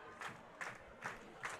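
Spectators at a high school football game between Montague and Whitehall cheer and shout in a few swelling bursts, a distant crowd roar rising and falling about every half second over a steady murmur.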